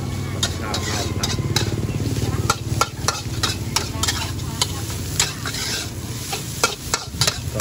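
Rice being stir-fried in a pan with dark soy sauce for a dish with kale and crispy pork: rapid, rhythmic metal scraping and clanking over a constant loud sizzle.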